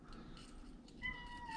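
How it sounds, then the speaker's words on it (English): A house cat meows faintly nearby, a short rising call partway through against quiet room noise. "Yeah, that's my cat."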